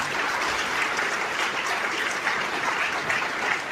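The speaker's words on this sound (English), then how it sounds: "That hand clap is not enough." Steady applause from an audience at a university graduation ceremony, dense and continuous clapping at an even level throughout, with no voices.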